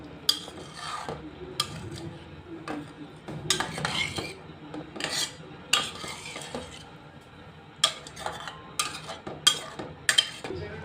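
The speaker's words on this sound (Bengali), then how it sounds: "এবার ভালোভাবে নেড়ে নিব।" A spoon clatters and scrapes around a pan of catfish bhuna in a little added gravy, with repeated metallic knocks and clinks over a low, steady sizzle.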